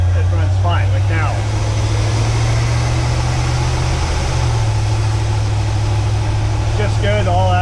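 A 1979 GMC Vandura G25 van engine runs steadily off idle, a loud, constant low droning hum throughout, while someone talks over it at the start and end.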